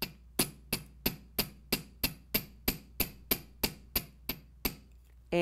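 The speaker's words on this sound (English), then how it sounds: "I'm going to use the chasing hammer here, and there'll be a bit of pounding" A chasing hammer flattening sterling silver wire for French-style ear wires, striking about a dozen crisp, ringing metallic blows at a steady, even rhythm, close and clear with no talking.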